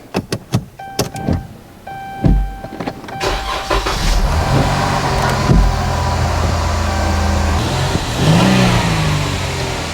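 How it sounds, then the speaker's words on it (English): A Dodge Durango in for a transmission fluid change: a few sharp clicks, then the starter cranks and the engine catches into a loud, steady idle with a brief rev, close by and alone. "So now I'm gonna start the engine."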